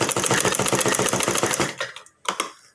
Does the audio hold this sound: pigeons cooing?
no